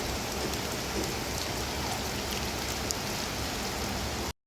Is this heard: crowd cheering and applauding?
no